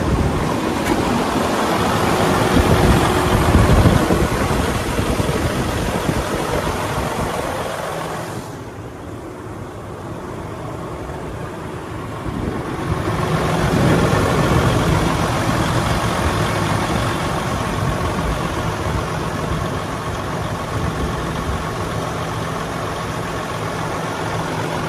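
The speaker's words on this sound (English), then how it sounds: "Okay, so we'll get the RPMs up and let you have another listen." A 2016 Freightliner Coronado 122 SD truck engine runs loud and close, a steady diesel roar that dips briefly then climbs again as the revs are raised.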